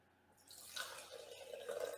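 About 100 milliliters of water is poured into a cup, starting faint and rising into a soft, continuous trickle that fills steadily.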